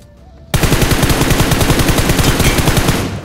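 Rapid automatic gunfire in the mobile battle-royale game BGMI, a loud, dense stream of shots that runs without a break for nearly three seconds after a quiet start.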